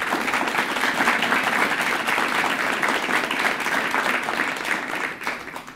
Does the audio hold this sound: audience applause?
yes